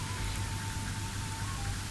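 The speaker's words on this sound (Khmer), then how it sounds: "មេឃចាប់ផ្ដើមខ្មៅងងឹត ព្យុះភ្លៀងបានធ្លាក់មកយ៉ាងខ្លាំង" Heavy storm rain pours in a steady, dense hiss that stays constant and fairly loud throughout, with no voices or other sounds.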